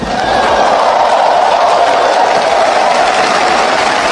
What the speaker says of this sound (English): Give this great body a resounding applause.